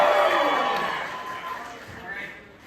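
A convention crowd cheers for a contestant in a vote, a loud burst of shouts and whoops that fades over a couple of seconds, followed by a smaller second swell.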